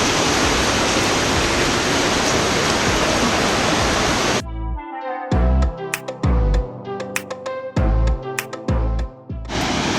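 A small waterfall on Kauai pours with a loud, dense, steady rush for about four seconds, then gives way to a run of separate knocks and clatters with brief bursts of water noise between them.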